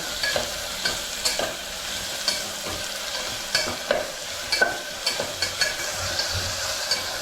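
Onions frying in oil while being stirred, a bright continuous sizzle punctuated by repeated spatula scrapes and taps against the pan at an irregular, fairly quick pace, close and clear with no talking.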